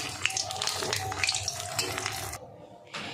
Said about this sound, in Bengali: পরের দুটো দিয়েছি, দেখুন পরের দুটো ভাজা হচ্ছে।